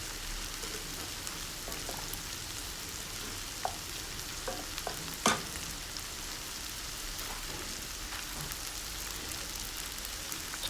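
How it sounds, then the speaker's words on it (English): Chopped ginger and garlic frying gently in a pan over a low flame, a soft, continuous sizzle with occasional crackles and a brief louder pop midway, close and steady, no voices. "2 tablespoons of chopped ginger and 2 tablespoons of chopped garlic. In low flame, I am going to cook it for a little while."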